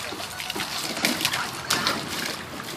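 Water splashes and churns close by during rainfall, a steady hissing wash broken by a few sharper splashes.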